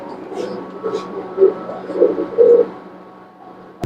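Pigeons cooing in a loft, a few soft throaty coos rising and falling close by in a quiet space, fading out toward the end.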